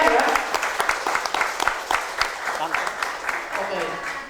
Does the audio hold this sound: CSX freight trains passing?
no